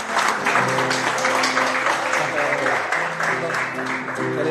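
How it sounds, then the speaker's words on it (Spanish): A church congregation applauding during a Sunday service, steady clapping from a gathered room with voices and tonal sound running beneath it. "Un aplauso al Señor."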